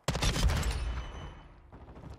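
Submachine gun fired from the hip in the video game Warzone 2.0, a rapid close burst of shots for about a second, then a fading tail and a brief final rattle.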